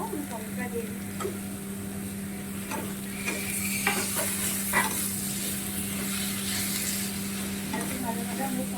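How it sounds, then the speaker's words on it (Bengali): Tomato goes into a pan of frying onion, a loud close sizzle with repeated spatula scrapes and a steady low hum underneath. "এবার দেখো আমি টমেটোটা দিয়ে দিচ্ছি।"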